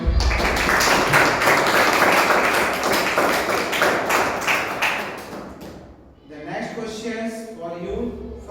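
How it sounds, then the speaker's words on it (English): A classroom of students claps for a classmate's right answer, a dense burst of applause that fades out, followed by a teacher speaking. "Clap for him."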